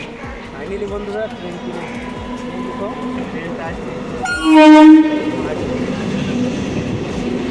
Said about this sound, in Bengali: এই দেখো ট্রেনটা এসে স্টেশনে দাঁড়ায় গেছে।